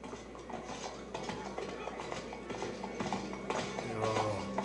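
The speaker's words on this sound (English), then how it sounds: "look at that beautiful horse going up the stairs" Horse hooves clop up a flight of stairs, a steady rhythmic series of hard knocks heard under a busy scene with other background noise.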